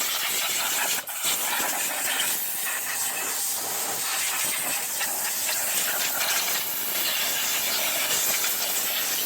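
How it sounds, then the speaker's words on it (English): Compressed air blasts coolant out of the engine bay of a 2011 Ford Explorer during spark plug work, a steady loud hissing rush that runs continuously for the whole stretch after a brief knock near the start. "I'm just gonna blow this area with air"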